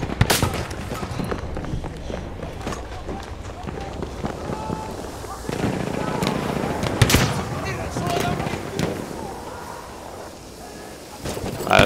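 Gunfire in the video game Battlefield 1, scattered sharp shots and bursts of varying distance running throughout amid constant battlefield noise, with a player talking over it.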